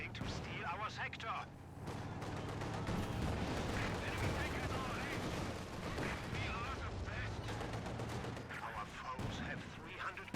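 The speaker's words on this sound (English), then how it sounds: "This gun barrage, but AT gun dodges it nicely." Artillery barrage fire in the real-time strategy game Company of Heroes 2, with dense rumbling blasts and crackling gunfire running loudly and continuously under a commentator's talk.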